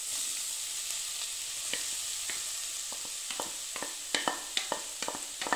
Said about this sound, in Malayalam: ഇനി നമുക്ക് ഈ ക്യാരറ്റ് ചീവിയത് ഈ പാനിലേക്ക് ഇട്ട് കൊടുക്കാം.